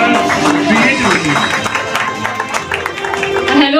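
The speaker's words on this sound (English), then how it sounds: "Big round of applause for her creativity." An audience applauds an entrepreneur at a women's excellence awards event, with a crowd clapping steadily and loudly under a voice speaking over it.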